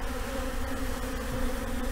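Honey bees feeding on syrup and pollen-sugar mixes at feeders make a steady, dense buzzing hum throughout, close and continuous with no pauses.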